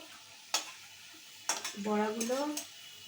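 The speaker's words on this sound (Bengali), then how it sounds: "বড়াগুলো, মাছের ডিমের বড়াগুলো একদমই ভাজা হয়ে এসছে।" Fish roe fritters fry in a pan with a soft background sizzle, broken by two sharp utensil knocks, and a brief voice sounds near the end.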